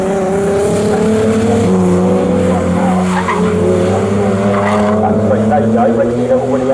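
BMW saloon race cars at full throttle on the Snetterton circuit, engines roaring loud and close with strong harmonic drones and tyre squeal as they work through a corner, a continuous dense wall of motor sound throughout.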